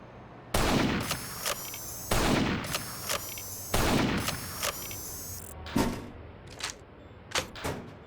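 Gunfire from a modded gun in Half-Life 2 RP, loud sharp bursts of rapid shots in several volleys with short pauses, followed by a few scattered single cracks and mechanical clicks, no talking.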